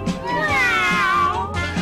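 A single drawn-out cat meow, loud and close, rising and then falling in pitch.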